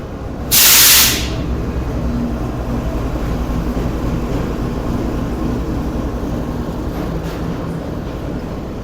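The 42 Down Karakoram Express, hauled by locomotive GU40 9049, pulls into a station. A sharp burst of air hiss comes early, then a steady low rumble and rolling rail noise continue throughout.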